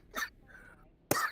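Two short, dry coughs from a sick man, the second louder and closer than the first, separated by a faint murmur.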